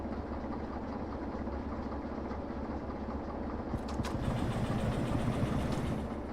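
Locomotive engine starting up in the Derail Valley train simulator game: a steady low mechanical rumble that grows louder and busier partway through, with a brief sharper hiss, heard alone without talk.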